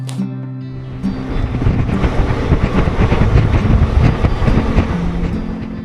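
New Jalpaiguri Intercity Express 15709 rumbles along the rails with a steady, loud rolling roar and faint clickety-clack, a low drone running continuously throughout.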